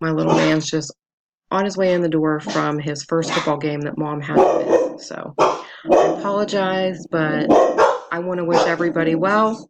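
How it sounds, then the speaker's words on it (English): Dogs bark in the background at home while a person talks almost continuously over them, the barks short and mostly buried under the voice. "Sorry about my dogs, guys."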